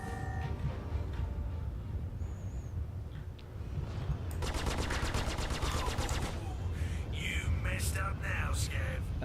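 Ship guns from an M50 in Star Citizen firing rapid repeating bursts over a constant low engine rumble, the fire starting midway and rattling densely to the end.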